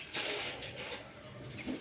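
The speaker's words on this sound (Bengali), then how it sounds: "ঠিক আছে, নতুন কবুতরটা দেখে" A new pet pigeon gives a faint, soft coo in one short stretch of quiet, close sound with no talking.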